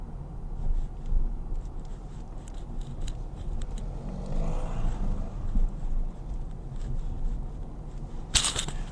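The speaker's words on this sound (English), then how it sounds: "I like driving this car." A family car's engine drones steadily while driving through a residential street, a constant low rumble with road noise throughout and a brief brighter burst near the end.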